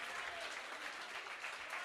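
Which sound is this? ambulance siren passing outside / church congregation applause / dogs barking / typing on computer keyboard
church congregation applause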